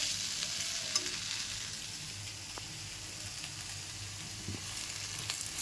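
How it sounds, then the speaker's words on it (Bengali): Mixed vegetables for chorchori fry quietly in a pan with a low, even sizzle, while occasional faint clinks and scrapes of stirring surface now and then. "সেইটারই সবজিগুলো ভাজাভাজি হচ্ছে।"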